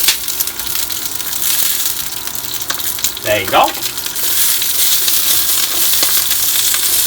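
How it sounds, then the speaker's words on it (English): Steady, loud sizzling of green beans sautéing Sichuan-style in a hot frying pan aboard a boat, with a brief clatter midway and a short spoken remark. "So now is the time they put in the green bean into the frying pan."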